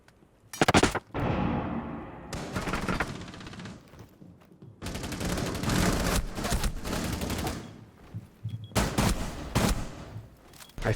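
In the Rainbow Six Siege video game, loud bursts of automatic gunfire come in several long volleys with short gaps between them, close and dense.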